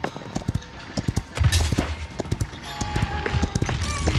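Horse hooves clip-clop in the Paladins video game, a rapid run of sharp, close hoofbeats in irregular bursts over busy game sounds and effects.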